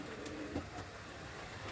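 Pigeons kept in a coop coo softly in low, faint murmurs against a quiet background hum, a few brief calls rising and fading with no one speaking.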